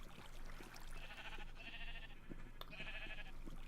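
Faint sheep in Minecraft give two or three short, wavering bleats at a distance, separated by brief pauses over a quiet background.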